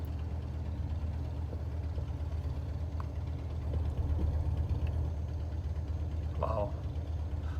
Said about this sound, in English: sorry for the motorcycle in the background